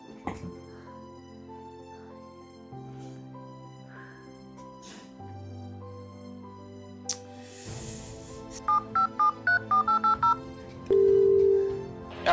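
A phone call being placed: a quick run of keypad dialing tones followed by a long ringback tone for an unanswered call, over soft background music with no talking.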